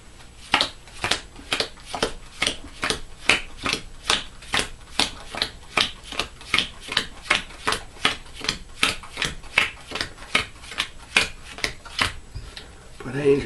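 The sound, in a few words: shuffling a deck of game cards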